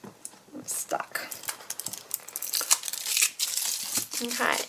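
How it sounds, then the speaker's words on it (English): Paper sheets being torn out of a Kaisercraft St Nicholas patterned paper pad, with repeated rough ripping and crinkling bursts close by that grow denser and louder toward the end, mixed with brief rustles. "in my paper pad I usually rip out one of every sheet"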